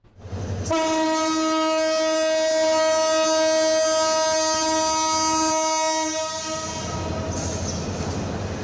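A crowded passenger train departs, blowing one very long, loud horn blast over a steady rumble, after which the running noise of the rolling train continues with no speech.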